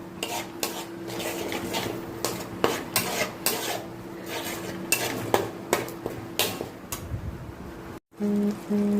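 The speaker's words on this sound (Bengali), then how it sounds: "এবার টক দইটা দিয়ে ভালো করে কষাবো" Potato curry masala with yogurt being stirred in a pan, a spoon scraping and clattering against the metal in repeated strokes with a faint sizzle underneath; a brief beep sounds near the end.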